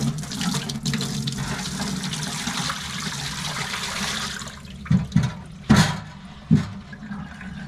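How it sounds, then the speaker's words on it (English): Water from a whole-house filter housing pours into a sink with a steady splashing gush, then trails off into a few separate splashes and gurgles. "we'll take this one over to the sink and we'll pour it out."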